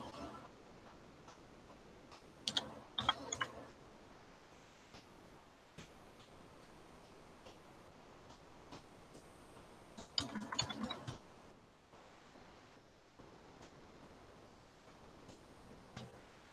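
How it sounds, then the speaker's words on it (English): One-handed typing on a computer keyboard during a gel nail session, faint sparse clicks with two short quick bursts of keystrokes over quiet room hiss. "I am typing one-handed"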